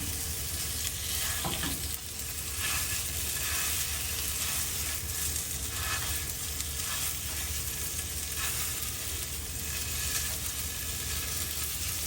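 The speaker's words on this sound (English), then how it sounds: "I'm gonna break the sausage up a hair." Spicy Mexican chorizo sausage fries in a pan, giving a steady close sizzle while a utensil stirs and breaks it up in soft repeated scrapes and taps, with no talking.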